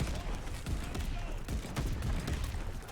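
Rapid bursts of gunfire from an MP40 submachine gun ring out in the video game Call of Duty: Vanguard. The shots sound dense and continuous in a loud, busy mix with other game noise, and a voice talks over them.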